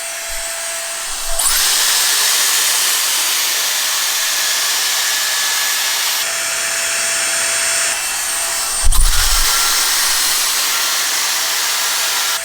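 A Dyson Airstrait hair styler blows air in a loud, steady whoosh with a high whine, switching settings twice and changing pitch, with no talking.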